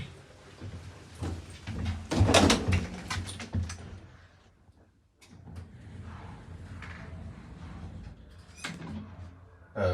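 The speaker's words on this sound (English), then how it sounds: "Doors opening." Otis elevator doors at The Madrid Edition hotel in Madrid slide open with a burst of mechanical rumbling and clattering, followed by a quieter stretch of hum and a softer second movement.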